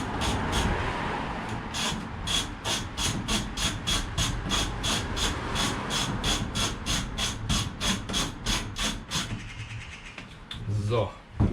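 A screw being driven out of a van's partition wall, heard as a fast, steady train of whirring, ratcheting pulses for about nine seconds before it stops, followed by a few clunks of handling.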